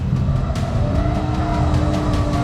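An Audi race car at full throttle on a track, the engine roaring loud and close with a steady, rising drone throughout.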